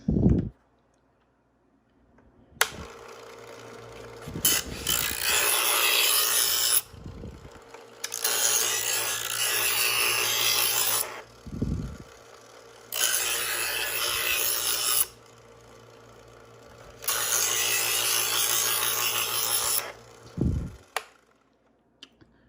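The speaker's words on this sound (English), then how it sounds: "So now we've got to move on to the second step and hone it down a little bit." A Chef'sChoice 15 Trizor XV EdgeSelect electric knife sharpener hones a blade. A motor hum runs underneath four separate gritty grinding pulls of about three seconds each, with soft thumps between them.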